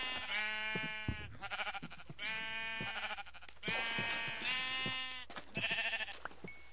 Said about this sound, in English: Your sheep will die for your wool.